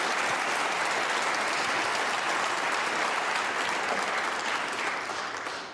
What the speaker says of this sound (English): The applause is for a century break next door from Neil Robertson on the resumption.